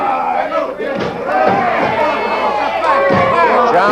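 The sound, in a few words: woman in wrestling crowd yelling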